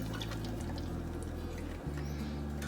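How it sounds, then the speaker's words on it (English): Blended soup mixture pours into a pot of mixed vegetables for a shepherd's pie soup, a steady close liquid gurgle over a constant low kitchen hum. "I'm gonna pour it in,"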